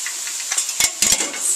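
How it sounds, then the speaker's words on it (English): Drained tuna stir-fried in a pan makes a soft steady sizzle, with a few sharp clicks and scrapes of a utensil against the pan near the middle. "we're just going to stir fry a little bit to heat through"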